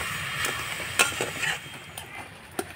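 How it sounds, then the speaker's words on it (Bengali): Grated coconut and sugar are stirred in a pan over medium heat for coconut naru, giving a faint sizzle with scattered scraping and light clinks of the spoon, with no talk. "একদম মিডিয়াম আছে কিন্তু নাড়াচাড়া করে চিনিটাকে গলিয়ে নেব"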